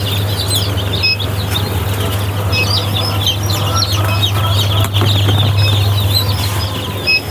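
Tiger chicken chicks packed in crates chirp and cluck in a dense continuous chorus, with a low steady hum running underneath the whole time.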